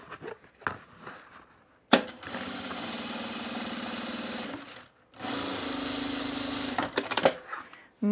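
A sewing machine hems a waxed-fabric bag, stitching in two long steady runs separated by a short pause, with handling taps and clicks before and between the runs.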